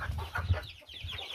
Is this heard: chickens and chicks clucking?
yes